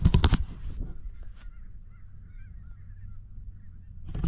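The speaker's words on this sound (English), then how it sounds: "there's snow geese on this field here" Snow geese honking from a flock on a farm field, faint and distant, a scattered series of high calls over low rumbling wind noise, with louder bursts of close noise at the very start and end.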